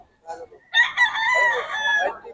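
Roosters crow at a poultry market in Bocaue, a close, loud cock-a-doodle-doo call after a few short clucks, with a second bird's crow overlapping near the end.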